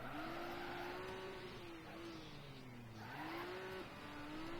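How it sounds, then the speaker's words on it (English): A car in TrackMania Turbo brakes with a whining, squealing engine note that dips and rises in pitch, faint and continuous. "Right, and that's me braking."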